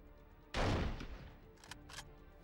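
Sniper gunfire in 24 The Game opens with a loud, close shot, then a reverberant tail and a few sharper distant cracks afterward.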